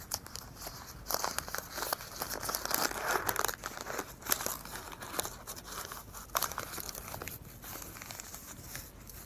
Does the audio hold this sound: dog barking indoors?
no